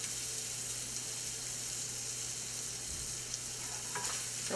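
Spicy shrimp seasoned with salt and crushed red pepper flakes sizzle and fry steadily in a pan, a continuous close hiss with faint stirring scrapes near the end.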